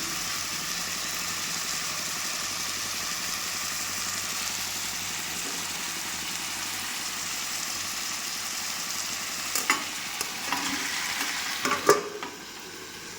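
Chicken curry for a red-gravy dish sizzles steadily in a pan, a constant hiss with a few clanks of stirring near the end, no talking.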